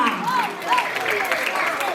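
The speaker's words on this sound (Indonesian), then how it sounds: "Kita berikan tepuk tangan yang meriah untuk teman-teman kelas 1H" A crowd applauds a grade 1 class's end-of-year school performance, a steady wash of clapping running underneath a speaker's voice throughout.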